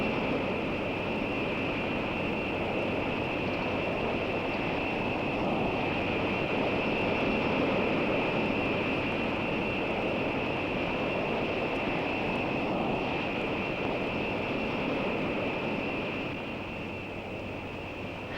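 X-15 hypersonic research aircraft in flight, a steady broadband roar with a constant high whine layered on top, sustained and loud throughout before easing slightly near the end.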